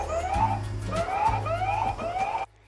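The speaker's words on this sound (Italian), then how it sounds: "se voi accendete anche l'allarme di sollevamento," An anti-theft lift alarm siren wails in repeated rising electronic sweeps, about four cycles, loud and close, then cuts off abruptly.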